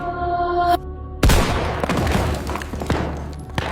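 A German counter-sniper's rifle shot in a WWII sniper documentary: a steady tone cuts off, then one loud, sharp gunshot cracks close and rolls into a long reverberant tail with scattered rumbles.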